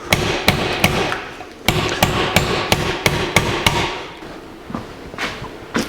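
An old wood chisel struck repeatedly with a hammer to split apart a part on a 1982 Jeep CJ7 axle: sharp metallic blows arrive in fairly steady bursts of several hits with short pauses, close and loud, with no talking.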